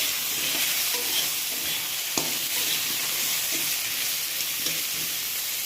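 Potatoes and whole flat beans frying in a pan, a loud, steady, hissing sizzle throughout with a few faint clicks of a spoon.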